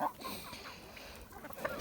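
Hens cluck softly and briefly nearby while eating in a farmyard, over a faint, murmuring background.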